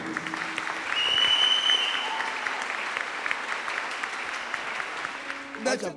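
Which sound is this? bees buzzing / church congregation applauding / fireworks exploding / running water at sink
church congregation applauding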